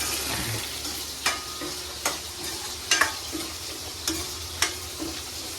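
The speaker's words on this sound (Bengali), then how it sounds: "আর এদিকে হচ্ছে মাছ ভাজা।" Fish fries in a pan in a home kitchen, a steady close sizzle broken by about six sharp clicks and scrapes spaced roughly a second apart, with no talking.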